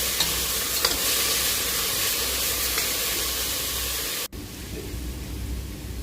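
Chicken breast fries in a pan with a loud, dense sizzle that stays steady, then cuts off abruptly near the end and returns much quieter.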